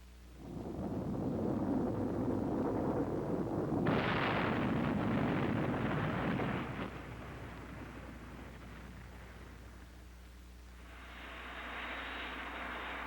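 A missile warhead set off by a laser proximity fuse: a loud, sustained blast with a rushing roar that swells sharply midway, eases into a lower rumble, then a fainter hiss rises at the end.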